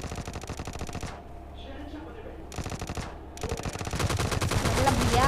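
Automatic fire from a Vector gun in PUBG Mobile crackles in rapid bursts, stopping briefly and then resuming, with faint game ambience in the gaps.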